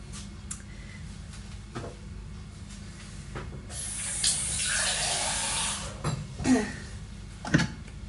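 Water is poured into a Vitamix blender jar already holding banana, kale, orange, nectarine and lime juice, making a steady hissing splash of a few seconds with a few small knocks around it.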